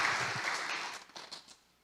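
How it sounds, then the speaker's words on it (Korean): A church congregation applauds after a hymn of praise. The clapping is brief and fairly faint, and it fades out within about two seconds. "다시 한번 크게 한번 박수를 한번"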